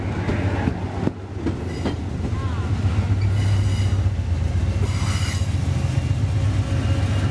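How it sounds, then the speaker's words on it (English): A push-pull passenger train, its locomotive pushing from the rear, rumbles steadily past at close range, wheels clattering over rail joints with a sustained low roar and occasional higher squeals. "The active locomotive on this train is pushing from the rear."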